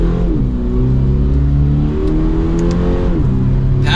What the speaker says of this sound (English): Let's give it one more acceleration here.